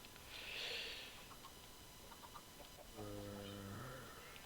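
Chickens in a Minecraft chicken shack give a few faint clucks and short squawks, one low drawn-out cluck near the end, all quiet and distant under soft background noise.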